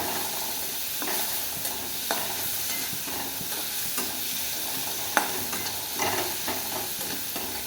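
Spinach with a spice tempering is stirred in a hot pan for a spinach and prawn curry: a constant close frying sizzle with a spatula scraping and tapping the pan now and then, and no talking.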